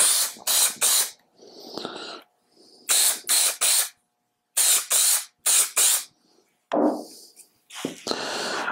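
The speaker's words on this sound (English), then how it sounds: "spraying the finish on here" Repeated short bursts of wood finish from a spray can onto a small wooden Valentine's bud vase, loud and close with brief pauses between sprays, and a faint rattle or shuffle heard in the gaps.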